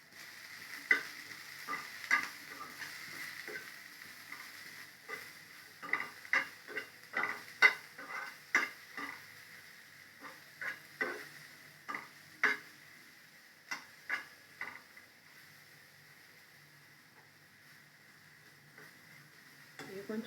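Brinjal pieces fry in a pan while a spoon stirs them, giving a steady soft sizzle broken by a quick run of sharp scraping clicks that thin out to quiet frying near the end. No one speaks.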